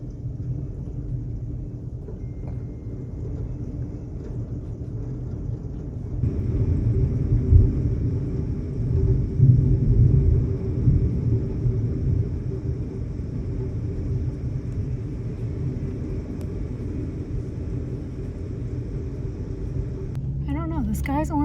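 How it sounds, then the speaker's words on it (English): Thunder from a hailing thunderstorm in rural Minnesota rolls as a long, deep, continuous rumble that swells louder midway and then settles into a steady distant growl. "Do you hear that thunderstorm?"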